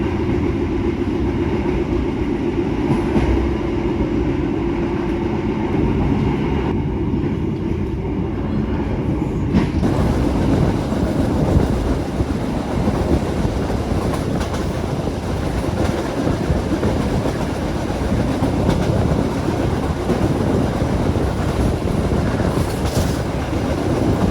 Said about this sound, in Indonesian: Kereta Argo Cirebon saat ini tiba di Bekasi